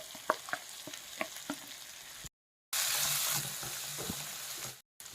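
Ridge gourd pieces and two dried red chillies fry in a pan with crushed garlic, a soft sizzle broken by light clinks of stirring, then a brief gap and a louder hiss before cutting out again.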